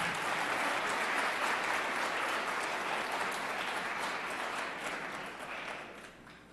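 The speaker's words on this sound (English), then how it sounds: "You guys can clap." An audience at a spring opening-day awards event applauds, a dense, continuous wash of clapping that holds steady and then gradually fades toward the end.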